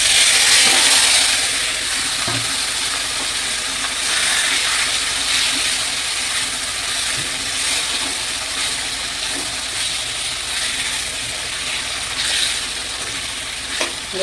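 Marinated katla fish meets hot oil tempered with black cumin in a pan, giving a loud, steady sizzle and hiss that fries on evenly throughout with faint crackles and no talking.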